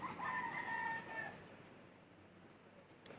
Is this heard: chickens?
yes